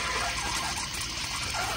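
A 1992 Kohler Kingston Waterguard toilet with a flushometer valve fitted with a 1.6 insert flushes in a steady, loud rush of water filling and draining the bowl, heard close up without talk.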